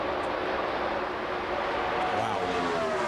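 NASCAR stock cars roar at full power down the Brickyard 400 at Indianapolis in 2003, a steady, dense engine drone that fills the whole clip without a break.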